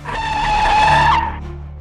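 A car brakes hard and its tires squeal in a loud, sustained high-pitched screech lasting over a second before cutting off, leaving a low engine hum; a sound effect with no talk.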